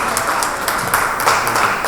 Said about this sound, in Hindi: जोरदार ताली से स्वागत हो जाए।